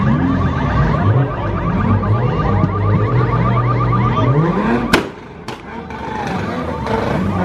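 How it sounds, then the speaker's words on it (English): A car alarm wails in a parking lot, cycling through rising and falling siren tones close by, then cuts off and gives way to a few sharp chirps and a quieter mechanical whine. "now the alarm's going off"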